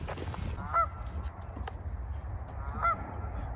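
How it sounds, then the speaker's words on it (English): A goose honks twice while flying in during a farm lunch break, each honk a short nasal call separated by about two seconds, heard over steady outdoor background noise. "this stupid goose comes over here, flying in"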